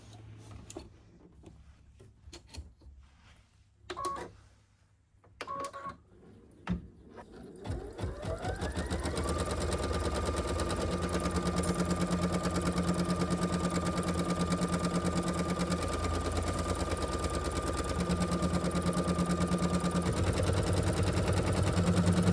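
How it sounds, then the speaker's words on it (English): A sewing machine stitches a placement line on felt, starting after a few quiet handling clicks and then running as a steady, fast mechanical whir that holds close and even to the end. "we're going to go back to the machine and we're going to put on our stitch placement line for our next piece of felt"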